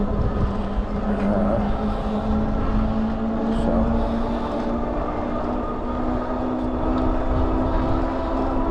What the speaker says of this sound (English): It's a little breezy this morning. I hope you aren't hearing that in the microphone too bad.